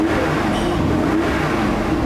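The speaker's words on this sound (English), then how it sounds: "There's nothing quite like that Mercedes-Benz sound" A Mercedes-Benz car engine and exhaust rev steadily, close and loud, with a continuous deep roar and no talking.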